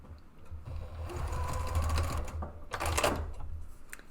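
A sewing machine stitching fabric and batting with a 3/8 inch seam allowance for a design board, a rapid mechanical chatter that swells and eases in short runs, running close and fairly loud.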